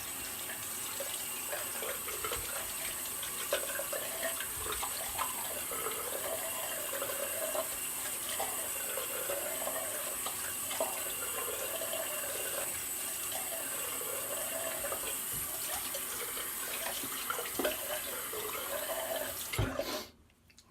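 Tap water runs steadily into a sink for a rinse after a shave, a continuous close splashing stream that cuts off abruptly at the end.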